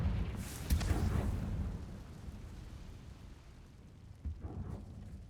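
A Confringo fire curse exploding in the Hogwarts Legacy video game, a heavy rumbling burst that fades slowly, followed by a smaller muffled thump.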